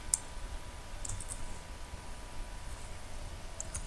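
Light mouse clicks and a few soft keystrokes on a computer during AutoCAD drafting, faint and sparse over a steady room hiss.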